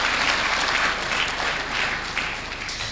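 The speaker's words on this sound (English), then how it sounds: "can we give the Managing Director of BIPC another round of applause?" An audience at an investors forum gives a round of applause for a managing director, a continuous wash of many hands clapping, fairly loud and even, easing slightly toward the end.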